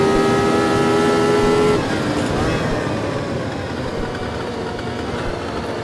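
Engine of a 1967-era inspired F1 race car in a racing video game, loud at first, then dropping off as it lifts and coasts, leaving a rough lower drone with faint rumble.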